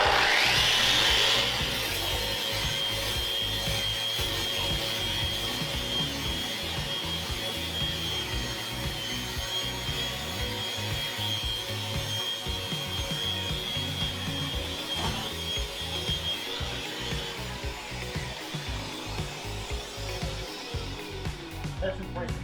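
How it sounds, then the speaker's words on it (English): A Festool Rotex 150mm trade sander in geared mode works across wood, giving a steady, loud, close grinding whir with a thin high whine that holds unbroken for over twenty seconds. "Now we're going to try this with on the geared sander"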